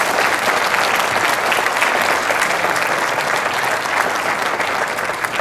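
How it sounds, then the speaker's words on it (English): A dinner-event audience gives a loud, sustained round of applause, even dense clapping from start to finish with no talking on top. "Let's give him another round of applause."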